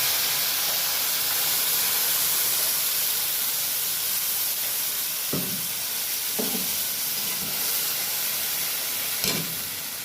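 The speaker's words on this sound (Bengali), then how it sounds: "এবার মশলাটা দিয়ে দেওয়া হলো, এটাকে একটু কষাতে হবে মশলাটাকে।" A spice paste fries with eggs in a pan, giving a constant loud sizzle and hiss. A few soft stirring knocks sound against the pan, with no one talking.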